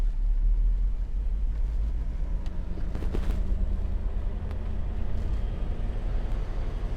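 A 1990 Mercedes 560SEC drives with a steady, low engine rumble and road noise throughout, the drone shifting slightly as it moves through the gears, with no talk.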